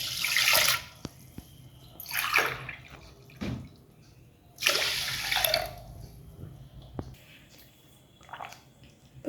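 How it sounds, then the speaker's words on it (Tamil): Water being poured into a vessel of 200 grams of washed raw rice, about 400 millilitres, in several splashing pours separated by quieter gaps with faint drips, close by. "இப்போ நான் 200 கிராம் அரிசிக்கு 400 மில்லி தண்ணி ஊற்றுறேன்"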